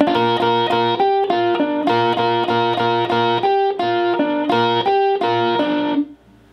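A clean electric guitar plays a quick melodic lick from a song, rapid picked notes, steady and loud, ending on a held note that fades.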